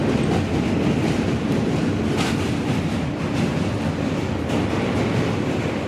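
A New York subway train rolls along with a loud continuous rumble and rattling, wheel clatter and brief metallic squeals rising from the steady noise, with no voices.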